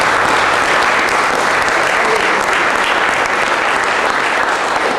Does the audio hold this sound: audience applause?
yes